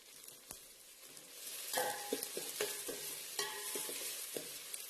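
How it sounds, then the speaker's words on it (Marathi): Sprouted moth beans fry in oil in a pan for Kolhapuri misal, a continuous sizzle broken by repeated spoon scrapes and clinks as they are stirred, fairly close and alone. "मटकी ही चांगली तेलामध्ये भाजून घेऊया"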